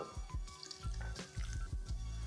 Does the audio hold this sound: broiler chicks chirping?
no